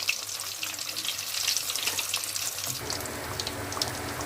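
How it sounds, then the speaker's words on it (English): Fish fillets fry in a pan over a high gas flame, giving a steady, loud broadband sizzle that continues throughout with a slight shift partway, no voices. "Now fry the fish both sides until you see them turning into golden brown"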